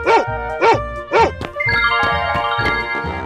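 Three quick barks from a dog in a 3D animal slide game ring out loud and near, then give way to jingly game music.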